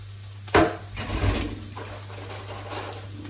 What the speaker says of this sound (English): So we want to whisk these 2 eggs to form.